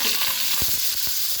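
Cashew nuts frying in leftover ghee while making banana unniyappam, a steady close sizzle with a couple of soft stirring scrapes, no voices.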